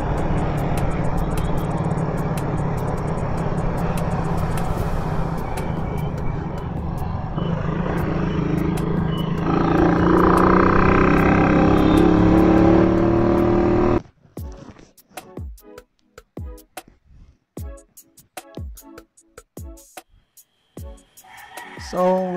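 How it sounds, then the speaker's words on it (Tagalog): Many vehicles pass along a busy road while a motorcyclist rides at speed, a loud continuous roar of traffic and wind for about fourteen seconds that then cuts to quieter, sparse engine sounds. "Dami sasakyan."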